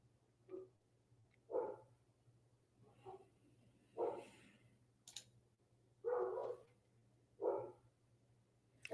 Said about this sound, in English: Sorry if you guys can hear the dogs.